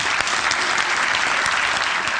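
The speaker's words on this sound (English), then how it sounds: "If I could give you a round of applause, I give." A brief round of applause with dense, even clapping that holds steady from start to finish.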